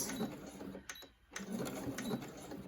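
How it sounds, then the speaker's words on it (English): A sewing machine stitching a folded fabric edge for a ruffle, a steady close mechanical whir with rapid rhythmic clatter, pausing briefly in the middle before running on again. "we're just gonna sew until we come to the end"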